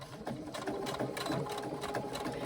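A sewing machine runs steadily through a 3/8 inch seam on a carry-all tote bag, boxing a corner, with a continuous close whirring stitch rhythm and no pauses.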